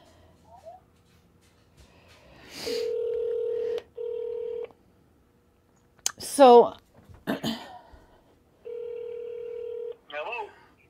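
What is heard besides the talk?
telephone dialing tones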